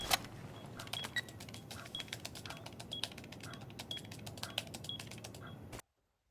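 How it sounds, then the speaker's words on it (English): A defuser being planted in Rainbow Six Siege gives off a rapid, steady stream of mechanical ticking and clicking with small electronic beeps at regular intervals, fairly close and quiet, then stopping abruptly near the end. "So I'm going to plant this diffuser."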